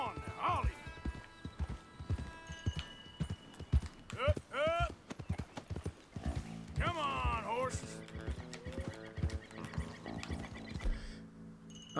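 Horses clip-clop across open ground in the Red Dead Redemption 2 video game, hooves thudding in uneven, fairly close beats, with whinnies and neighs rising above them and a voice talking throughout.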